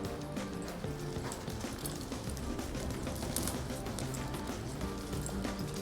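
A horse lopes steadily through a barrel drill, its rhythmic hoofbeats drumming continuously at close range with no pauses.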